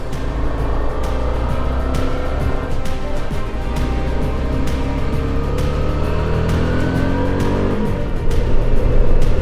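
A motorcycle engine in third gear drones loud and steady while riding on a clear day down a slight downgrade, its harmonic hum mixed with wind rush throughout, rising slightly near the end.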